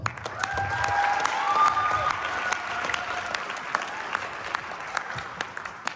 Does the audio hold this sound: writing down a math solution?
no